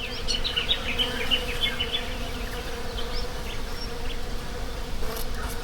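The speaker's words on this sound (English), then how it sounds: "Got to be some native bees here because I hear a lot of" Steady insect buzzing close by in Australian bushland, a continuous droning hum of native bees with a few higher chirps drifting through, no voices.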